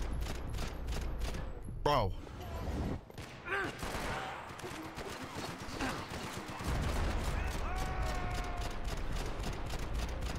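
Rapid gunfire from the Max Payne 3 video game rattles in repeated bursts close by, with a voice talking over the shooting.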